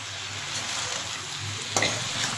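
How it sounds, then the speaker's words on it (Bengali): Spice paste for a rohu fish curry with winter vegetables fries gently in a pan after a splash of water, a soft steady sizzle with one brief scrape of stirring near the end. "এবার আমি এটা ভালো করে একটু কষিয়ে নেব মশলাটা।"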